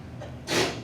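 A single short sneeze bursts out about halfway through a math lecture, a sharp breathy blast against quiet classroom tone.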